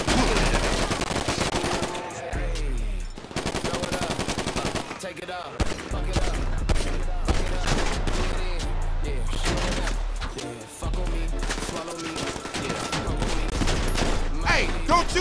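Gunfire in Grand Theft Auto Online comes in loud automatic bursts, separated by short gaps, with game music and sound effects mixed in.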